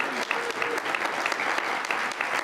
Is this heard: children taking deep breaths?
no